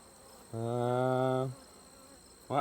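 Honeybees and drones in a hive: one close, low buzzing hum lasting about a second, then a brief second buzz, against quiet background.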